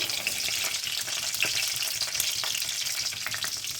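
Green chillies and garlic frying in a tablespoon of hot oil, a close, continuous bright sizzle and crackle with faint stirring, no voices.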